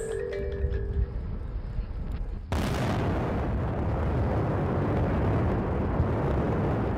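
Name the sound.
dynamite explosions at mining site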